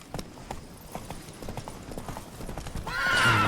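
A horse trots in The Witcher 3 video game, with steady rhythmic clip-clopping hooves close by, and a brief neigh rises near the end.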